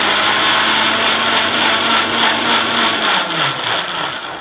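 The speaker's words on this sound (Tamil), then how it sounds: "நான் ஜாருக்குள்ளே வாட்டர்மெலனை போட்டேன், அடிச்சுக்கலாம்." A blender whirs steadily at high speed, blending watermelon into juice, close and loud, then begins spinning down near the end.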